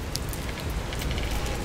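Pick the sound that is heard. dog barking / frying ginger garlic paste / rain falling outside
rain falling outside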